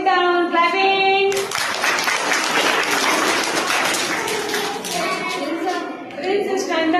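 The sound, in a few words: children clapping hands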